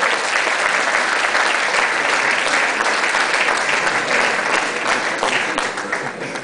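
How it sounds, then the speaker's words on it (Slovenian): Audience at an evening awards ceremony applauds steadily and loudly for about six seconds, a dense wall of clapping that holds level and only eases slightly at the end. "Ja, se lahko zaploskate"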